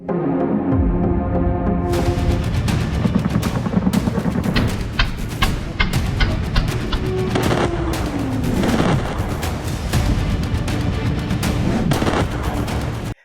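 Rapid, loud blasts and booming explosions from airstrikes crackle in dense succession, with sharp cracks layered over a continuous rumbling roar.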